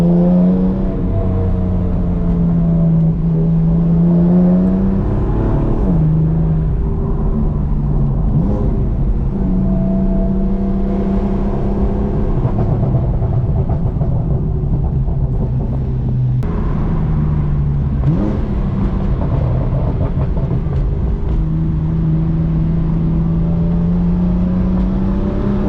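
A 500hp+ BMW M4 pulls hard along winding back roads, its engine note climbing through repeated gears with brief dips between shifts, loud and continuous from inside the cabin.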